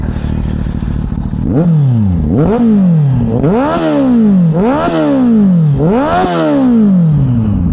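A motorcycle engine revs hard several times in a row, each loud rising roar dropping away before the next, close by.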